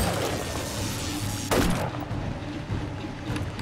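A weapon fires in 7 Days to Die with a dense spray of rapid shots, then one sharp, louder crack followed by a decaying whoosh and continued gunfire over steady background game noise.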